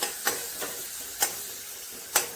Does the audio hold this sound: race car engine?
no